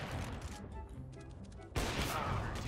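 Counter-Strike: Global Offensive gunfire: a quiet stretch with faint shots gives way to a sudden loud burst of fire near the end, fairly low in level overall.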